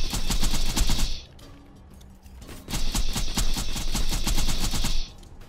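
Rapid automatic gunfire from a weapon in Borderlands 2, loud sustained bursts of shots with a brief pause in the middle before the firing resumes.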